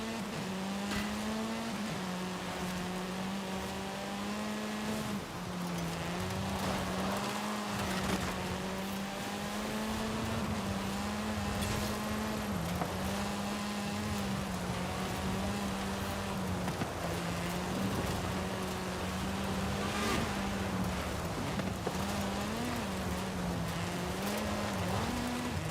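Rain in the racing game Forza Horizon 5 hisses steadily under a loud, droning car engine whose pitch rises and dips as the car drives on, continuous for the whole stretch with no talking.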